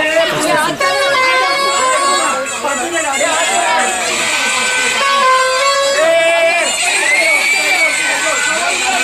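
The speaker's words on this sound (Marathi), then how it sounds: "तुम्ही गाड्यांचा आवाज बघत असाल किती आहे" Busy street traffic in Lower Parel, Mumbai, during a Dahi Handi festival: vehicle horns honk repeatedly over a loud, constant roar of crowd chatter and engines, with people talking close by.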